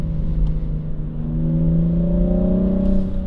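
BMW M235i engine revving hard through quick automatic gear shifts, a loud close rumbling drone whose pitch climbs steadily, with brief dips at each fast shift before rising again.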